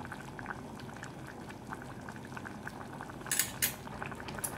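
Mung bean stew with bitter gourd bubbles steadily at a boil in a pot, a continuous close simmering hiss broken near the end by a few bright clinks of a utensil against the pot.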